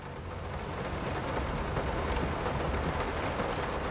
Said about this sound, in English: And it is raining heavily.